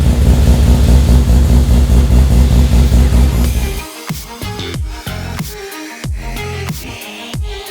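A Mazda RX7 Spirit R 13B rotary engine, with a Bridgeport port, runs close and loud, holding a buzzy, rapid idle for about four seconds before a series of sharp blips and revs.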